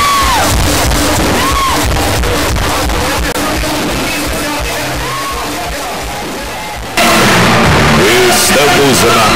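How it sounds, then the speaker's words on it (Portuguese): A large crowd at a Brazilian public event roars with sustained shouting, whoops and cheers, dense and loud throughout, surging even louder near the end, while an announcer's amplified voice calls out over the noise. "Eu quero ver o grito do povo."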